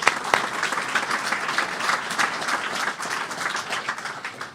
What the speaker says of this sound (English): Yes, give him a round of applause.